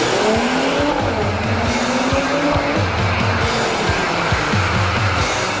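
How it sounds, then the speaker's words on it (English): A Mercedes-AMG C43 runs hard on a race circuit, its engine note rising and falling through steady roaring passes alongside tire noise, loud and continuous throughout. "this car that I'm driving today is a Mercedes-Benz AMG"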